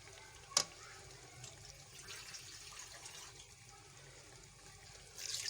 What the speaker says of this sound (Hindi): एक प्याली पानी डाल के